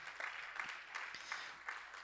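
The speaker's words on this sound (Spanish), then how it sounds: "Dale un aplauso fuerte al Señor." Congregation clapping at a church service, a fairly faint, steady patter of many hands with slight rhythmic surges throughout.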